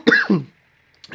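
A short, harsh cough bursts out at close range, followed by a second rougher hack, then a quiet pause before a faint breath or stir at the end.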